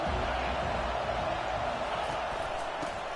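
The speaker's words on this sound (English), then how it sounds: "This crowd bringing the energy and noise early." Stadium crowd at a college football game with UCLA, a dense continuous roar of many voices, steady and loud throughout with no breaks or peaks.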